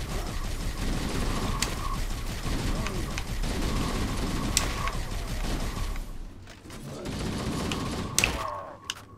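Gunfire in Halo: Combat Evolved, a dense, continuous clatter of weapons and game noise with a few sharper cracks, steady and fairly loud, a brief dip near the end, and a voice speaking over it.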